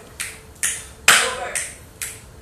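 One person claps in a steady pattern at an open mic on a cruise ship, six sharp, evenly spaced claps about half a second apart, close and clear over a quiet room.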